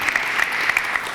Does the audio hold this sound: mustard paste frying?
no